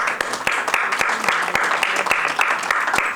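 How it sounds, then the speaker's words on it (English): An audience breaks into a burst of applause, dense and sustained hand clapping that fills the hall evenly throughout. "Give him a big round of applause."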